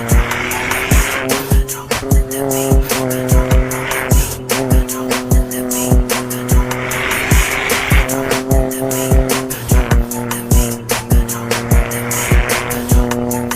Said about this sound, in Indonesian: GR Corolla explodes through the canyons, snorting boost, spitting gravel, and clipping apexes